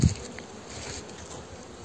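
Honeybees hum steadily at an open, mesh-less hive with poor ventilation during a spring inspection; a brief low thump opens, then a soft continuous buzz holds alone at moderate distance.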